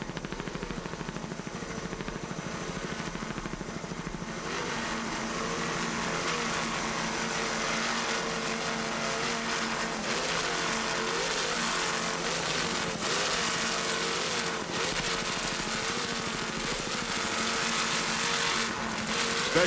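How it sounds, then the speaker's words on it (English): Twin 650 hp Troy Dennis inboards drive a 38-foot Fountain powerboat racing at the 1986 Key West worlds, a steady, loud, high-pitched engine drone that holds throughout without a break. "This 38-foot fountain powered by two 650 horsepower Troy Dennis inboards."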